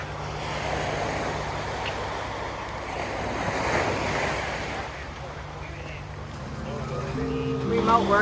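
Ocean waves wash onto a beach at Marbella in southern Spain, a continuous surf rumble with wind buffeting the microphone, swelling slightly midway, with faint voices and a brief tonal sound near the end.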